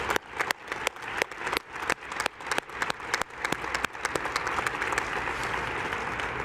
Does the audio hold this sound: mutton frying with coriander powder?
no